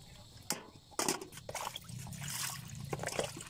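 Pancit canton noodles rinsed in water, with splashing, trickling and sloshing as the water is moved through them, close and moderately quiet, no one talking.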